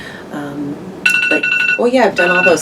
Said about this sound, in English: that's my alarm that tells me I should go to the theater if I haven't left yet